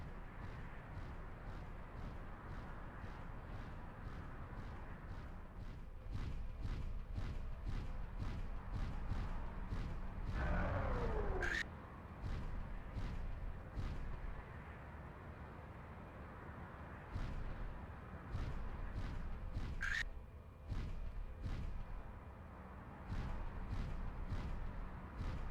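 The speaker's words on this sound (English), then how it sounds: "Who's shooting at me?" Gunfire and artillery in the video game Mechwarrior 4: Mercenaries: rapid, steady bursts of distant booming shots with a few sharper blasts and a sweeping whoosh over a low rumbling background.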